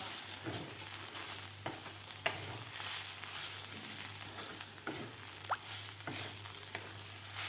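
Fresh green chickpea leaves being stirred in a pan as they finish cooking, soft scraping and patter with faint sizzling, a few sharper clicks of the spatula against the pan, quiet and close with no talk.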